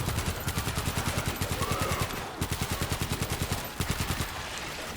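A stationary machine gun fires in the World War Z video game, a fast, continuous, evenly spaced stream of loud shots with only brief breaks, set over other game noise.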